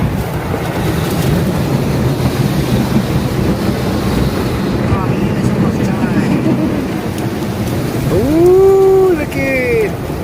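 Water from a car wash sprays and drums steadily across a car, a loud, continuous hiss and patter heard from inside, with people talking and a voice near the end.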